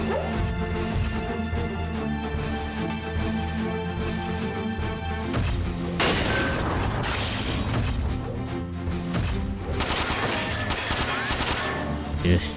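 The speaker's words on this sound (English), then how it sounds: "airstrike landed" Airstrike explosions and bursts of gunfire in the mech video game Front Mission 4 crash loudly over dense, continuous game music and effects, with heavy impacts piling up in the second half.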